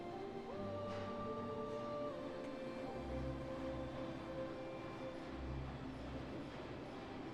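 A train runs in the Plan B: Terraform game, a steady rumbling roll with low pulsing thumps and sustained tonal whines, moderately quiet and heard alone.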